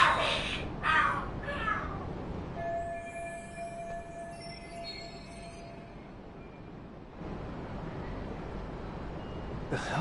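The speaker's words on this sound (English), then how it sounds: "Are there cats fighting?" Cats fighting and screaming in the game Lost Judgment: a few sharp yowls at the start, then a long drawn-out caterwauling wail over background noise, fading out.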